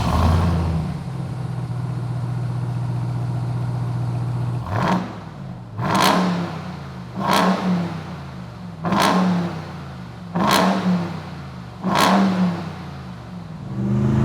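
A stock 2021 Ram TRX pickup engine idles with a low drone, then revs in five or six sharp, loud bursts spaced about a second and a half apart, each rising and falling quickly.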